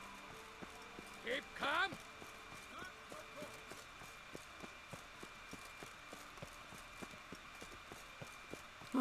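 The horse Roach in The Witcher 3 trots with steady clip-clop hooves at an even, moderate pace, clearly heard under a short line of male speech near the start.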